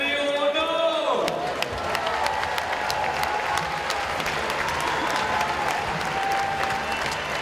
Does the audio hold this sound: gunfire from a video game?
no